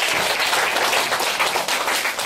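A crowd at a holiday science event claps warmly to welcome a speaker, a brief, loud, even burst of applause with no talking.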